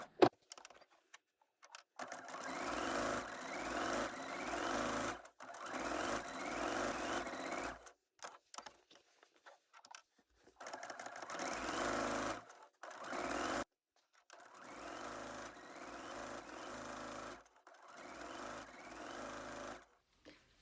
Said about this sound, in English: This is why I'm doing this stay stitch, so that my squares actually remain squares